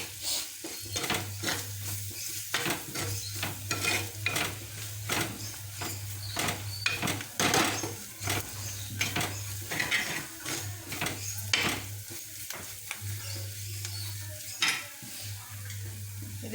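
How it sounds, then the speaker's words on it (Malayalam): Beef sautéing in a pan with spices and fennel powder for Kerala beef roast, with steady sizzling under repeated stirring scrapes and clinks of a utensil against the pan, close and continuous. "കുറച്ച് പെരുംജീരകത്തിൻ്റെ പൊടി ഇതെല്ലാം ഇട്ട് കൊടുത്ത് ഒന്നുകൂടെ വഴറ്റണം."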